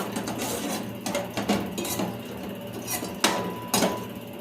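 Five cinnamon sticks and five cloves stirred in a pan, giving a steady scrape with scattered metallic clinks and taps, close and moderately loud, with no talking.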